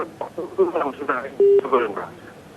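A short, steady telephone line tone sounds once during an incoming call on a live morning show, under continuous talking.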